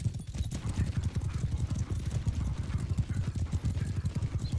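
Horse hooves clip-clop in the medieval battle game Bannerlord, a dense, steady galloping patter of many mounts close by, with occasional whinnies and faint voices mixed in.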